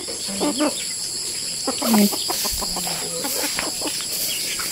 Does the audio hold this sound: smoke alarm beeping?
no